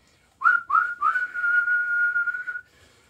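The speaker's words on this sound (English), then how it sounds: "the referee's got his whistle in his mouth" A referee's whistle ends a Subbuteo table football match in a loud, close series: two short chirps, then a long sustained blast lasting about a second and a half.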